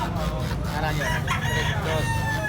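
A bullstag rooster crows loudly and close at a busy chicken market, its harsh call rising over a constant din of other fowl and background chatter.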